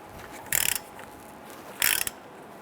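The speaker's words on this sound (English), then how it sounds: "Using our 18mm socket with an extension, let's go ahead and loosen and remove our caliper bracket bolts." Ratchet with an 18mm socket and extension loosening caliper bracket bolts on a 2005-2010 Chrysler 300 rear brake: two short bursts of rapid clicking, fairly close, separated by a quiet pause.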